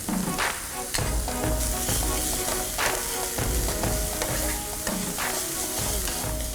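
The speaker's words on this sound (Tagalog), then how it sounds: "Sunod na magigisa ng sibuyas at bawang." Chopped onion and garlic sauté loudly in a hot pan, a dense, steady sizzle with repeated stirring scrapes throughout and no talking.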